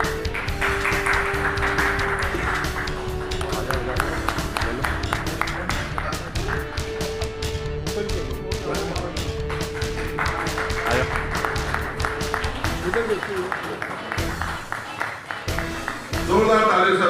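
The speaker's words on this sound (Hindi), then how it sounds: "जोरदार तालियों से अभिनंदन और धन्यवाद।" Audience at a seminar and awards event applauding loudly, dense sustained clapping with some tonal music or ringing underneath, ending in a short burst.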